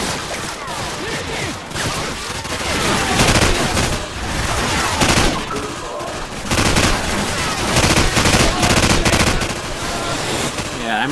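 Sustained automatic gunfire in Call of Duty 4: Modern Warfare on Xbox 360, dense rattling bursts with brief lulls between volleys, loud and continuous throughout a firefight, with squad voices faintly mixed in.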